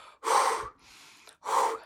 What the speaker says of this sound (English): you come back onto the bench and you're noticing you're breathing really fast